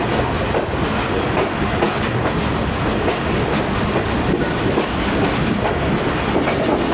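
The Tezgam express, running half an hour late, rolls into Jhelum railway station with a loud, continuous rumble and rhythmic clickety-clack of wheels over rail joints, heard from inside an old AC sleeper coach.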